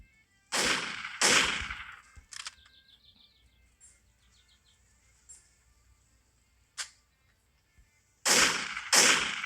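A double-barrel shotgun in the video game Foresto fires two booming shots in quick succession, then after a long quiet gap with faint clicks and chirps, two more loud blasts ring out close up.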